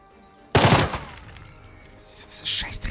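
Suppressive gunfire in the video game Jagged Alliance 3: a loud, sudden burst of automatic fire that breaks out of near silence and then rings and rattles on for a couple of seconds.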